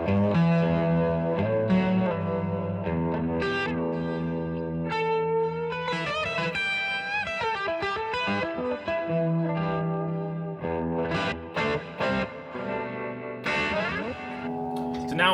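A Gibson reissue electric guitar plays through an amp with an open, growly, lightly compressed tone, ringing chords and single-note runs with some effect shimmer and reverb.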